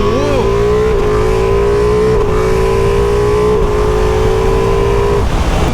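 A Ducati Multistrada V4S touring motorcycle accelerates hard and close, its engine whine climbing steadily through several quick gear changes before the pitch drops off near the end.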